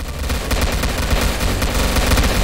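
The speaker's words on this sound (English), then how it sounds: "I've had to turn off my volume, it is so loud from all the gunshots." Dense, nonstop automatic gunfire from soldiers in a Roblox army game, loud and close with overlapping rapid bursts forming a continuous roar.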